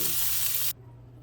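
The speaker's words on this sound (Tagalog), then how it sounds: "Over high heat, i-grill po natin ang ating shrimp." Salted and peppered shrimp sizzling on a grill over high heat, a loud steady hiss that cuts off abruptly partway through, leaving quiet room tone.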